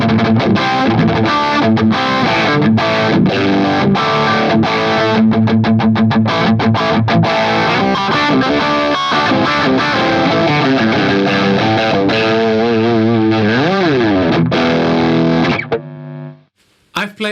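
Electric guitar driven through the Angry Charlie distortion on a Nux Cerberus multi-effects pedal, a dense mid-heavy crunchy tone with strummed chords and riffs that run steady and loud, then break off near the end.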